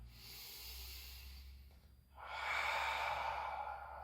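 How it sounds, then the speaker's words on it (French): Slow breathing during a guided exercise, one soft inhale followed by a stronger, longer airy exhale, close and quiet with no talking. "J'inspire. J'expire."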